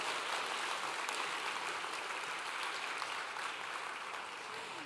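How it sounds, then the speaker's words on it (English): Steady, dense applause from an awards ceremony audience, a continuous wash of many hands clapping at moderate volume, tapering slightly toward the end. "One more round of applause, please."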